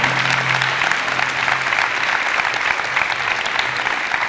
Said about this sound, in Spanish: Fortísimo aplauso para Aitana.